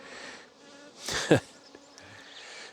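Honey bees buzzing in an apiary, a faint steady hum with a closer, louder buzz swelling briefly as a bee passes near.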